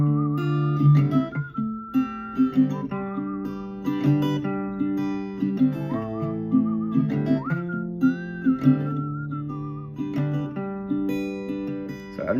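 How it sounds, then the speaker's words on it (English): Someone whistles a melody while strumming an acoustic guitar during a song tutorial, clear sustained whistled notes gliding over rhythmic chords, close and intimate with no speech. "I've never actually whistled while playing"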